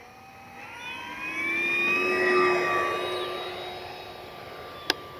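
An FMS F4U Corsair 1700mm V3 radio-controlled model plane takes off on its maiden flight, its whining motor swelling loud as it passes and then fading into the distance, with a brief sharp click near the end.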